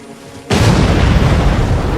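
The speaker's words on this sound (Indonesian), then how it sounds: "tiba-tiba terjadi sebuah ledakan besar karena mereka menginjak ranjau di tanah" A landmine detonates in a film scene: a sudden loud, broad blast cuts in after a quiet half second and roars on as a sustained rumbling boom.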